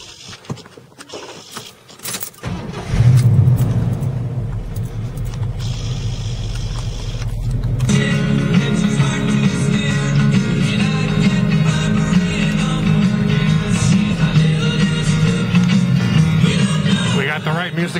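A 1970 Chevrolet El Camino SS engine cranks and catches, then settles into a steady, loud rumbling idle that continues throughout, with a few clicks and jangles at the start.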